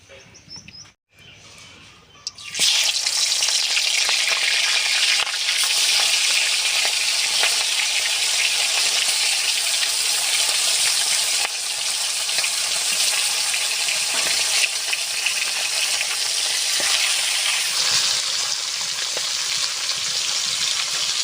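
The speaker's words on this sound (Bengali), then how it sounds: "মাছের মুড়োটা আমি সুন্দর করে ভেজে নেব। কড়াইতে দিয়ে দেবো সরষের তেল" A large fish head fries in mustard oil in a wok. After a brief quiet start, a loud, steady hiss and crackle sets in and holds for the rest of the clip.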